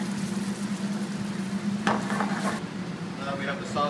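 Cream sauce with truffle oil sizzles and bubbles steadily in a pan at close range, with a brief clatter of a utensil against the cookware near the middle.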